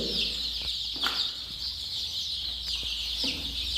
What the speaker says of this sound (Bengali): আর একটা মুরগি ছেঁকা দিয়ে দেখাচ্ছি